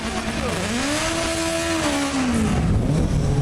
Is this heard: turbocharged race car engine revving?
yes